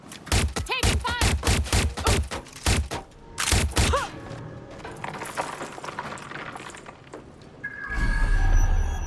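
Rapid bursts of gunfire in the video game Watch Dogs: Legion, dense and loud volleys of close shots followed by scattered impacts and mechanical clatter, with a heavy rumble building near the end.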